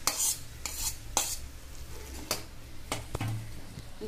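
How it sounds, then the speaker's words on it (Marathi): Chana dal puran filling being stirred in a kadhai, a spoon scraping and knocking against the pan in several short, uneven strokes over a faint sizzle, close and moderately loud with no talking. "तर चला आता आपल्याला हे पुरण परतून घ्यायचंय"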